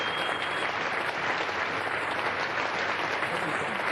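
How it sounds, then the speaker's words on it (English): Applause rolls around a cricket ground during a Test match as a long-serving commentator finishes his final broadcast, a dense, continuous clapping from a large crowd that holds steady throughout. "The applause was for John Arlott, his last commentary."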